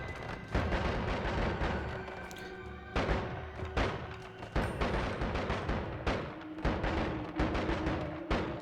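Two shotgun spells go off together again and again in the video game Noita, giving heavy booming blasts at roughly half-second to one-second intervals, each with a short rumbling tail.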